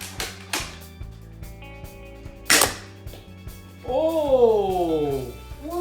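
Nerf blaster firing foam darts: a few sharp pops spread across the clip, one louder crack near the middle, then a child's excited exclamation rises at the end.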